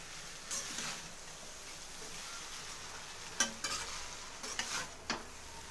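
Hakka noodles with masala are stir-fried in a pan, a faint, steady sizzle with occasional scraping and tapping as a spatula tosses the noodles.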